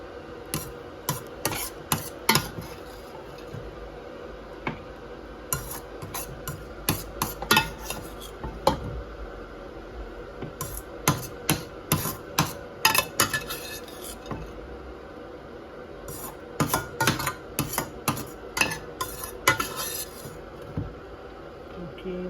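Metal utensils clink and scrape repeatedly as ground shark meat is transferred into a cooking pot in a home kitchen, with irregular sharp taps and rubbing close by and no talking.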